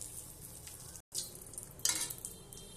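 Whole spices and bay leaf sizzling in hot oil in a pan for tehari, a steady close frying hiss broken by a brief stir.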